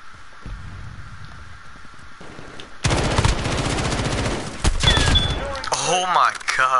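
An M13 rifle in Call of Duty Modern Warfare fires sustained, close automatic bursts that start partway in and continue loud to the end, with a voice talking over the action.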